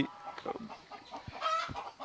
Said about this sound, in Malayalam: കരിങ്കോഴി അതിൻ്റെ ആണും പെണ്ണും ഒക്കെ ഉണ്ട്